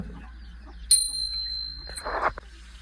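A single bright bell strike rings out with a clear, sustained tone that fades over about a second, faint amid quiet room rustling.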